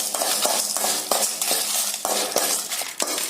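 Chana dal, urad dal and six dried red chillies roasting in oil in a pan, with a steady fry hiss under repeated rhythmic scraping and clinking stirs of a spoon against the metal, close and with no talking.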